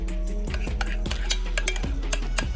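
A spoon stirs and stabs through bacon cheeseburger dip ingredients with cream cheese in a bowl, making steady close knocks and clinks in an irregular rhythm with a low background hum.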